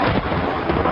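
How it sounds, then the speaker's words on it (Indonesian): Thunder from a lightning strike booms as a loud, dense rumble that fills the whole moment, with no voices. "loncatan elektron itu nanti kita sebut sebagai petir"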